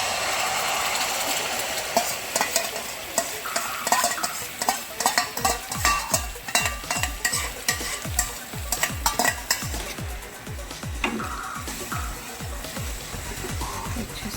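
Fried potato pieces are stirred with sauce in a sizzling pan, a spoon scraping in quick, rhythmic strokes over a steady fry hiss, close and moderately loud.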